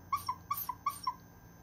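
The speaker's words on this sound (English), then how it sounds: "Remember, if you blow too hard, it'll sound like this." Pendant ocarina overblown, giving six short shrill, squeaky notes in three quick pairs with airy high overtones, close and fairly quiet.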